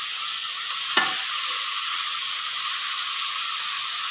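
A jackfruit seed stir-fry sizzles steadily in a pan with a constant close hiss; a single scrape of the stirring spoon lands near the start, then frying continues alone.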